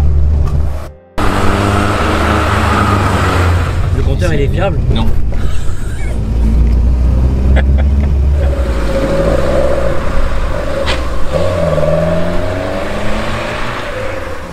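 Renault 5 Alpine with a 93-horsepower engine accelerating hard, its loud engine note rising and falling through gear changes and continuous close by, with a brief drop near the start and people talking over it.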